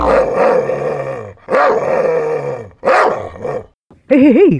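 A mimicry performer imitates a dog with his voice, producing four separate growling, barking bursts with short gaps between them, the last one a wavering, howl-like sound, loud and close.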